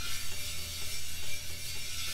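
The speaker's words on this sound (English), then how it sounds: "Now we're going to take metal pot scrubber. And we're just going to start scrubbing it around." A metal pot scrubber rasps steadily over a discada, a steel disc cooking pan, during cleaning with salt and water, producing a continuous gritty, scraping scrub with no talking.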